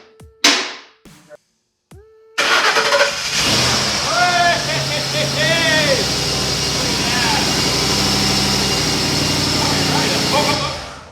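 A Ford Coyote 5.0 V8 swapped into a Lincoln Continental cranks over and fires after a few short starter bursts, then settles into a loud, steady, slightly lopey idle that continues to the end.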